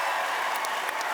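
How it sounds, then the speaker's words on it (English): A crowd applauds a Boston Celtics point guard at a live podcast show, a brief, loud, dense wash of clapping with a few sharper claps standing out near the end. "So, can we give a round of applause for Payton Pritchard?"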